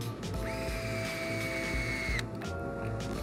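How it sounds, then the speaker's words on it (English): Small power driver with a hex bit driving screws into a Pro-Line PRO-Series 32P RC transmission: a steady, close motor whir that rises in pitch and cuts off, then a brief tail, no voices. "Get a little more torque out of the driver so that way it goes all the way down."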